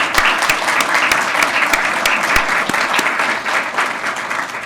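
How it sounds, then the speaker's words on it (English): Sustained applause from an audience at a ribbon cutting for a dementia caregiving center, steady and fairly loud, with a crowd clapping continuously for the whole stretch and tapering slightly at the end. "Please, again, let's give them a round of applause."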